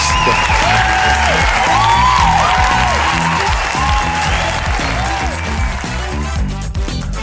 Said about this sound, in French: Faites un maximum de bruit pour Rire à l'Est.